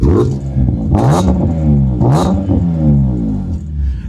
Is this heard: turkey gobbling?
no